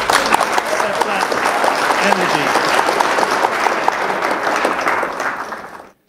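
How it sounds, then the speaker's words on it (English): A crowd applauds steadily at an energy summit in Nigeria, clapping densely for several seconds before fading out, with a voice speaking briefly over it. "Come on, round of applause"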